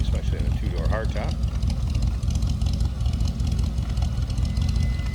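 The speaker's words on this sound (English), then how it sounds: "Nice sounding V8. Nothing crazy over the top cam wise or any wild loud exhaust." A 1957 Chevrolet Bel Air two-door hardtop with a mildly cammed V8 and moderate exhaust runs at a steady low rumble, close and continuous, with a brief voice near the start.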